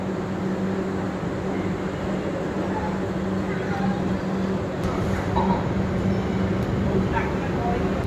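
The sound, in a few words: Puri Howrah Super Fast Express train departing Khurda Road Junction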